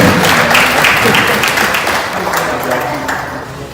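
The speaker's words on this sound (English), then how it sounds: "Please, round of applause" Audience applause at a business summit on small enterprises and start-ups, greeting a bank executive as he comes up to present. Dense, steady clapping fills the room, loud and sustained, with some voices mixed in underneath.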